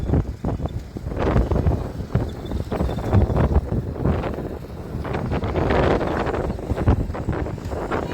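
Horses' hooves pound in a steady, rapid rhythm during a race in Kutch, under heavy wind buffeting, the galloping fairly close and continuous throughout.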